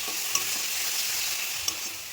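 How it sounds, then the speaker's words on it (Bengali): Potatoes and green peas sautéing in a wok with very little oil give a steady sizzle, with two sharp clicks of a spatula against the pan and no talking. "কড়াইশুটি দিয়ে খুব ভালো করে কষিয়ে নেবো"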